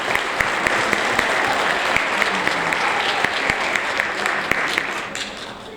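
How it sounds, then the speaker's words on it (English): Audience applause at a sixth-grade school awards ceremony, a dense steady clapping from a seated crowd lasting several seconds, sharper individual claps popping out now and then before it tapers slightly at the end. "let's give everyone one more round of applause"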